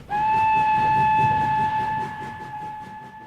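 Train carriage travelling as a sound effect in a narrated audio story: a loud sustained train whistle sounds over rumbling, rhythmic wheel noise, with the whistle holding steady for about three seconds as the rumble continues.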